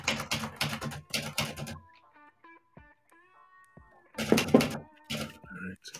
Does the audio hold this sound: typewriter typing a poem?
yes